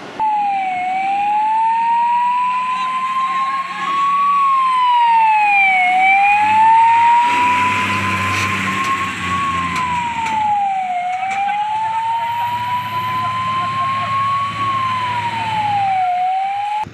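A fire brigade truck's siren wails at a factory fire, rising and falling in a slow steady cycle, loud and close over a rumbling engine, with no one talking.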